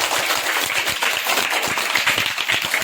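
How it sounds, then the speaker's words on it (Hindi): Group of children clapping together in a classroom game, a quick, brisk patter of many small hands, loud and close, lasting a few seconds. "ताली बजाइए आप लोग।"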